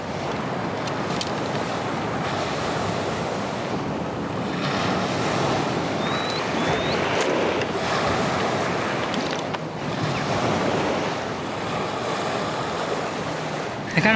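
Ocean waves wash steadily beside a shoreline spot, a broad continuous surf roar with wind buffeting the microphone, and a few faint voices far off under it.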